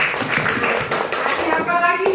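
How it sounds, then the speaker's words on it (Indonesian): Pupils in a classroom clap for a student during a Quran recitation lesson, a short burst of uneven hand claps close by, mixed with chatter and voices. "Tepuk tangan untuk Banisa"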